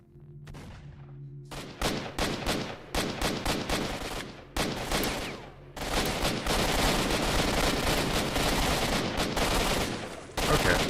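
Rapid bursts of gunfire in the video game STALKER, loud and dense, with shots crackling in quick clusters and then merging into sustained firing from several weapons.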